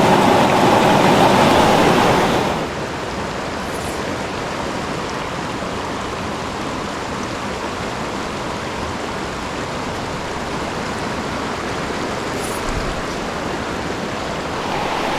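A mountain creek rushing just above a set of waterfalls, with a loud, constant roar of flowing water that starts even louder and then settles into a steady, close wash.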